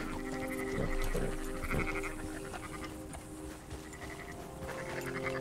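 Sheep bleating in Red Dead Redemption 2, a few short wavering bleats close together early on, over a steady bed of game ambience.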